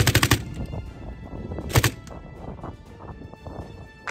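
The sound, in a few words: machine gun fire on the Ukrainian front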